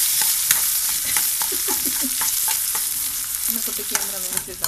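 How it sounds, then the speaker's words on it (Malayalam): Nuts frying in oil in a pan for egg biryani give a steady close sizzle with scattered stirring scrapes and small crackles throughout, no voices. "നട്സിട്ട് ഒന്ന് ആയിട്ട് നല്ല കൈമകൊക്കെ പൊരിക്കുന്നുണ്ട്."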